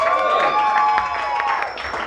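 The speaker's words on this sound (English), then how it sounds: "No need to applaud." Audience at a comedy show in a liquor lounge breaking into brief scattered applause and cheers, a short burst of clapping that tapers off over a couple of seconds.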